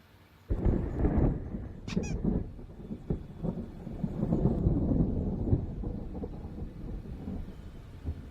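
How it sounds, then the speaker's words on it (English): A thunderstorm in the Alan Wake video game rumbles in with a sudden low crack followed by rolling, sustained thunder, with a brief high squeal near the start. "There's a storm coming. Oh, what a storm."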